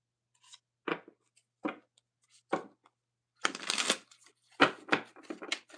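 Black Tarot cards shuffled by hand: several short, crisp riffles and flicks, then a longer rustling run of shuffling and a final cluster of quick card snaps, close up and without any talk.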